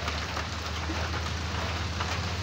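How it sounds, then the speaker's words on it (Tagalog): Heavy, steady rain pouring during a bike ride, a dense continuous hiss of drops hitting surfaces close by, unbroken and with no talking. "umuulan, lakas pa ng ulan"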